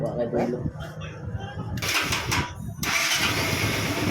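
A Suzuki RS200fi motorcycle engine, revived after a fire, cranks and catches, then runs with a loud rough roar, while someone talks nearby over the noise.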